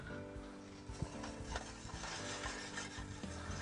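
Close, soft scraping and stirring of a whisk blending flour into hot fat in a pan to make a roux for chicken fried steak, a quiet continuous rhythmic scratch with faint sizzle and no voices.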